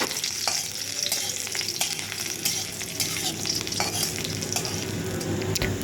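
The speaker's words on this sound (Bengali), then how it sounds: "15 থেকে 16 কোয়া রসুন আমি লঙ্কার সাথে ভেজে নেব।" Fifteen or sixteen garlic cloves and four dried red chilies fry in oil in a hot kadai, giving a dense steady crackle and sizzle with occasional sharp clicks of stirring, close and without talk.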